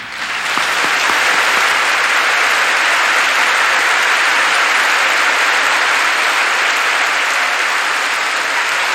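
Audience applause welcoming a guitarist onto the stage at a tribute concert, a dense, loud, steady wave of clapping that holds for the whole stretch with no voices over it.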